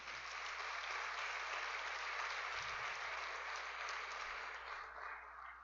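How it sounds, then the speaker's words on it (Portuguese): Church congregation clapping in worship, a continuous even roar of applause at moderate distance that holds steady and tapers slightly at the end, with a faint low thump partway through. "Quem crê assim, dá um aplauso a Ele aí."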